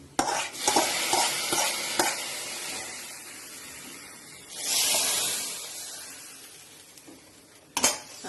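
A mustard, shallot and curry leaf tempering goes into simmering mango curry, with stirring and pan clinks and a loud hissing sizzle burst midway, then quieter stirring and a sharp clatter near the end. No one speaks.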